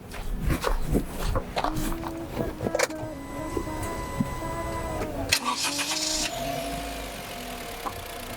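Car engine cranking and catching after a loose cable is reconnected at a roadside, preceded by clicks and knocks, then a steady idle hum carrying on to the end.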